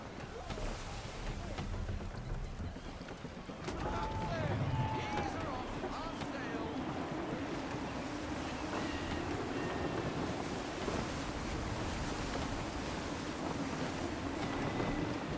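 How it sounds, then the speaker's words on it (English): Gusty wind and rolling sea waves in Assassin's Creed III form a steady, dense roar that swells partway through, with a low rumble underneath; no voices stand out. "Wind looks to be shifting. Stay alert, Connor. Gusty winds can be difficult to manage."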